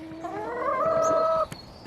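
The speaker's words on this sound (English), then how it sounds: "3 different chickens in here, so we have 1 Australorp, 1 Buff Orpington, and 1 Rhode Island Red." Hens, an Australorp, a Buff Orpington and a Rhode Island Red, give a drawn-out tonal call ending in a brief cluck, fairly close, over faint background noise.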